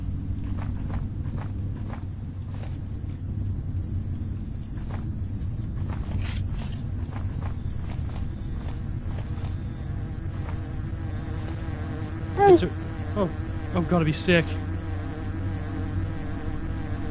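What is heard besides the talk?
swarm of buzzing bees in a video game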